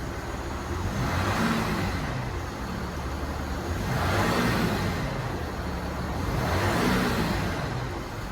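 A car engine idles with a steady low rumble, smooth and even, swelling slightly in a slow cycle with no one talking.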